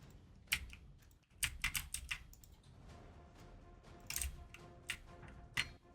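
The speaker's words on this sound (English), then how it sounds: "I think he's typing to you or something." Fairly quiet, close typing on a computer keyboard, with irregular bursts of sharp key clicks and brief pauses between them and no one speaking.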